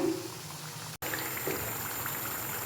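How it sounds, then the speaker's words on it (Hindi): Chandrakala sweets deep-frying in hot oil, a soft continuous bubbling hiss with faint pops, briefly cut to silence near the one-second mark before resuming, no speech. "इस तरह से हम गोल्डन ब्राउन अच्छे से सभी को फ्राई करेंगे।"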